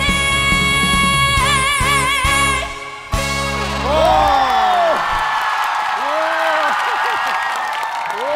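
A held note and sustained music from a trot singing competition stage cut off abruptly, then a loud audience erupts in cheering, applause and rising 'wow' shouts and whoops that carry on to the end.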